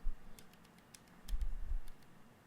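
Keys clicking on the compact physical keyboard of a Planet Computers Cosmo Communicator, a quick run of light taps up close with a few soft bumps, no voices.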